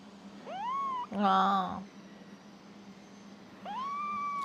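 Two drawn-out cat meows, one early and one near the end, with a louder, harsher yowl between them, over low background hum.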